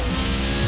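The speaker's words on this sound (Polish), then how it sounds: "Ten samochód zajebiście przyspiesza, naprawdę." A tiny Peel P50 microcar accelerating in the racing game Forza Horizon 4, a steady, loud, continuous engine drone that fills the short moment on its own.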